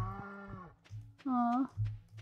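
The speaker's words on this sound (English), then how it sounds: "The cows are outside!" Farm cows in the video game Stardew Valley let out two drawn-out synthetic moos, clear and fairly close, with low background tones between them.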